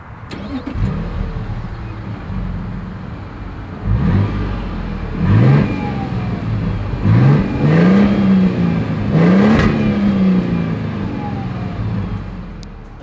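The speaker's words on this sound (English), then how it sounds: "As always, here is that exhaust clip" A 2023 Toyota Sequoia SUV engine idles, then its exhaust revs several times in rising, swooping bursts before settling back to a steady rumble.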